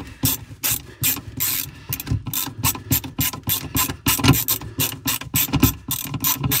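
Screws being driven in while installing an MPPT charge controller for a portable solar setup, heard as rapid rhythmic ratcheting clicks and grinding bursts close to the microphone, repeating steadily without talk.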